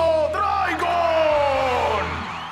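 A cartoon crowd whooping and yelling in a loud burst of cheering voices that slowly tapers off, with no distinct clapping standing out.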